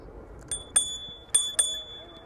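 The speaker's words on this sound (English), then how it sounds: "Jingle bell." Four quick bright pings from a bell on a Serial1 Rush/Cty electric bicycle, close and crisp with a sustained ringing tone between the strikes over a quiet outdoor background.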